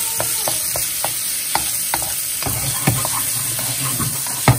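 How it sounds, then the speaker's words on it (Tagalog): Steak sizzling in a hot pan as a chef cooks it, a steady loud fry with frequent small crackles and spits throughout, close and continuous with no talking. "Nakikita niyo yung chef na nagluluto ng steak."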